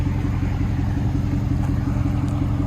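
A 2019 Dodge Durango R/T HEMI V8 fitted with Vibrant resonators, an X-pipe and 5-inch tips idles steadily, a deep, even rumble with a regular low pulse, loud and close.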